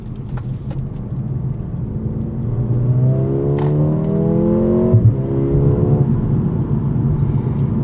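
A 2024 Mercedes CLA 35 AMG engine, 302 hp, pulls steadily under acceleration, its rising drone climbing in pitch and shifting through gears against constant road and wind noise.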